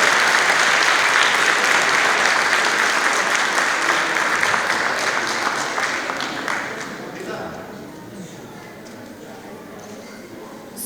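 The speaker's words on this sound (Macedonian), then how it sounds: "Аплауз за сите." An audience at a children's and youth song festival in Kočani applauds with dense, sustained clapping that tapers off gradually toward the end, with some voices mixed in.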